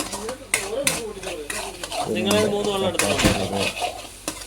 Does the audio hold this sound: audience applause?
no